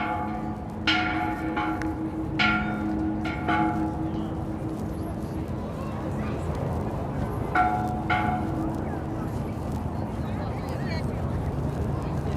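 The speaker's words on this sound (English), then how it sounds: "One last bell before I leave." A church bell rings a few times on a street in Brooklyn Heights, New York City, its tolls fairly distant and mixed into outdoor city noise, wind and scattered voices.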